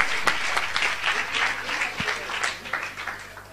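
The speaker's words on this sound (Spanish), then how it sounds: "para darle un aplauso" A small audience claps for a volunteer at a magic talk, the applause moderate and somewhat distant, steady for a few seconds with a faint voice underneath.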